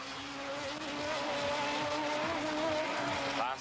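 Race cars roar past at Bushy Park in Barbados, where a Mazda RX3 runs among the field, a continuous engine howl with shifting pitch and tire noise building steadily over a few seconds.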